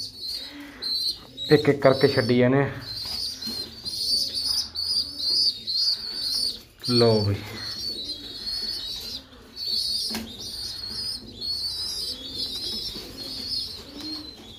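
Pigeons at a pigeon club loft, soft cooing and chirping running throughout with occasional louder bursts, while someone talks over them.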